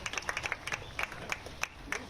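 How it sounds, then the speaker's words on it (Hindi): Applause from an audience at an official ceremony flagging off digital groundwater chariots in India, scattered claps in a fairly quiet, moderate burst with no talk over it. "आप सभी से निवेदन करूंगी कि एक बार आभार स्वरूप जोरदार तालियां माननीय तक प्रेषित करें"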